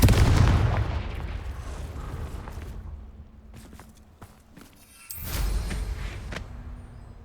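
The Confringo blasting spell in Hogwarts Legacy goes off as a deep booming burst, followed by rumbling debris and a second heavy blast a few seconds later, with no voices.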